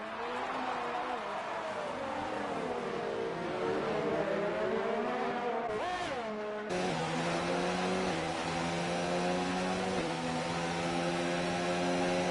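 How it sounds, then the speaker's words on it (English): Formula 2 race cars in a sim-racing league at Azerbaijan, a Red Bull Honda and an Alfa Romeo, drag side by side with loud, continuous engine whine rising and falling through gear shifts, several engines layered close together. "Harrison, side by side, it's a drag race, Red Bull Honda versus Alfa Romeo"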